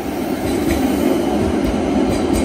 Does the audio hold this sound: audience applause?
no